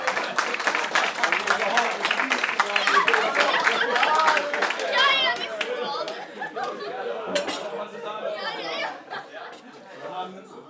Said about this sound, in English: Big clap for yourself. Clap yourself.